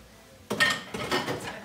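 Fiestaware ceramic dishes clink and clatter as they are handled in a kitchen, with a burst of bright knocks after a quiet start and further scattered clinks.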